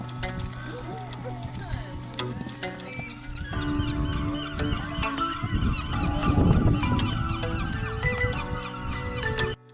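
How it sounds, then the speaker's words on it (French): Around twenty gulls are released back into the wild at the Brittany seaside, raucous honking calls overlapping nearby and thickening into a loud, continuous chorus in the second half, with voices mixed in. "C'est au bord de la mer, du coup il y a des goélands."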